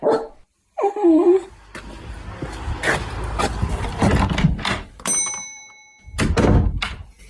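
A dog barks a few times in short bursts amid thumps and shuffling, with faint whimpering and bumps in between.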